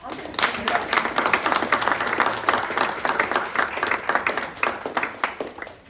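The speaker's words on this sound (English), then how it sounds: "how about a round of applause to all the singers we've had so far?" An audience at a musical theater workshop claps for the singers, a lively, rhythmic round of applause with a few voices mixed in, holding steady throughout.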